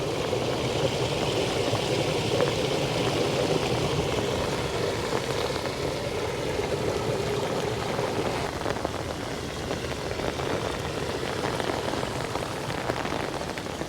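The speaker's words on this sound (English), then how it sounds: "don't know if you can see the water going in." Continuous rushing, splashing water flows steadily into a city storm drain, with a low engine-like hum underneath and no voices.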